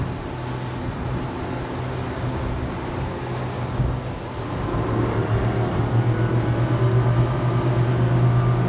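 A Honda L4 150 outboard motor pushes a boat at full throttle on calm Broadwater water, a steady loud low drone with hull and wind rush that swells slightly louder in the second half.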